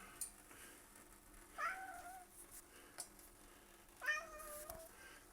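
Two clear meows from a cat at moderate distance, one around a second and a half in and another near four seconds, each rising then trailing off, with quiet room tone and a few small clicks between them.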